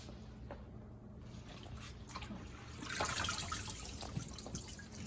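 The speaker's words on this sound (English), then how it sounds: "we're going to put it down in the water. And all we're going to do is blanch it." Washed sochan greens lowered into a pot of water to blanch, giving soft, steady watery sloshing and trickling that swells a little partway through, close by with no talking.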